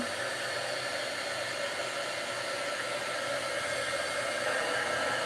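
A hair dryer blows steadily to dry paint on plastic candles for a snowman craft, giving one unbroken, fairly loud whooshing roar that holds even throughout, with no voices.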